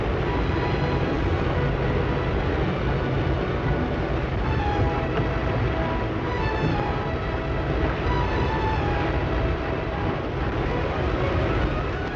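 Trains in railway marshalling yards at Carlisle make a dense, continuous rumble with clanking and faint squealing tones over it, heard steadily at moderate loudness with no voices.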